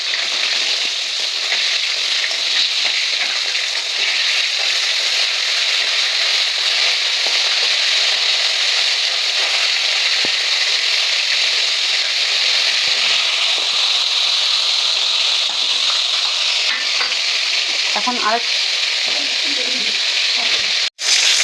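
Tilapia pieces frying in hot oil give a loud, constant sizzle that runs unbroken, with a brief clatter near the end as the fish is turned over.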